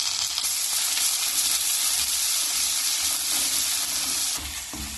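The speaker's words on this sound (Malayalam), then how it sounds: "ഇതിലേക്ക് 2 തക്കാളി ചെറുതായി മുറിച്ച് ചേർത്ത് വഴറ്റാം" Chopped tomatoes sautéed with onion, garlic and curry leaves for a bitter gourd curry, giving a loud, steady close sizzle and hiss that eases slightly at the end.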